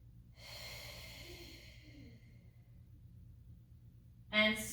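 A slow, deep exhale during a Pilates neck and back stretch with the head hanging, a soft breathy rush lasting about two seconds, close and quiet, then a short louder sound at the end.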